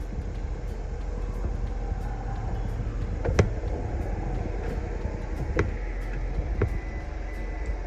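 A 1946 pickup truck fitted with a Toyota Prius powertrain drives along with a steady rumbling road and motor noise, with a few sharp knocks and rattles as it bounces.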